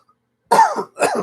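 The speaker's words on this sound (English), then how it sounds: "had to cough" Two harsh, throaty coughs in quick succession, close and fairly loud, with a brief gap between them and silence before.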